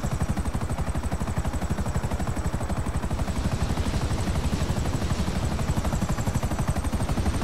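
Helicopter in GTA V Online, a steady, loud rotor chop with rapid even blade thumps and turbine whine, continuous and close throughout with no talk.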